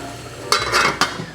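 Apples with butter and a pinch of salt cook in a pan over low heat, giving a soft sizzle with two brief scraping stirs close by.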